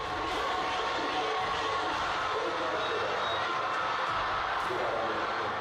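A large outdoor crowd cheers and shouts in celebration of the Maratha reservation win in Maharashtra, a steady roaring wall of voices with no pauses.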